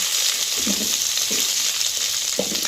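Fennel seeds, dried and slit green chillies and chopped onions sizzle steadily in hot ghee, a close, dense frying hiss with a few soft stirring scrapes, no voices.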